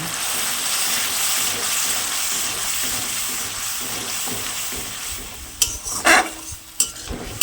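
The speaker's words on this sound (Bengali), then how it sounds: "যে মশলাটা দিয়েছিলাম ওইটা দিয়ে দিলাম এখন, দিয়ে ভালো করে কষে নেব" Masala for paneer biryani stir-frying in a pan, a steady close sizzle with rhythmic stirring, ending in a few sharp clinks of a utensil against the pan.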